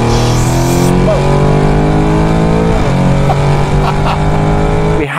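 A loud Novitec Lamborghini Urus Esteso engine drones and rises in pitch continuously, revving hard close by, with talk faintly audible underneath.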